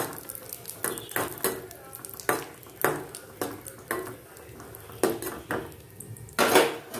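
Raisins and cashews frying in ghee in a pan for wheat payasam, with repeated scraping and clinking of a metal spoon against the vessel at an irregular rhythm over a soft sizzle.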